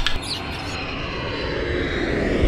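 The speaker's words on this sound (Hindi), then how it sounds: "तोय से तैयारा." An airplane roars with a steady, broadband rush that swells slightly toward the end, close and fairly loud with no voices over it.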